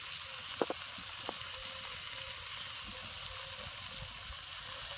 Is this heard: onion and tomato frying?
yes